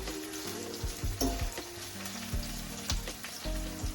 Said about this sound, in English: just simmering down in the pot.